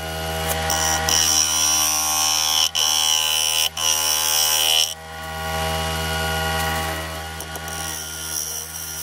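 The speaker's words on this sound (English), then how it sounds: "using a negative rake scraper now just to finish off the outside of the bowl." A wooden bowl spinning on a lathe while a negative rake scraper finishes its outside: a steady motor hum with a bright, continuous scraping hiss, briefly interrupted twice, then softening as the scraper eases off.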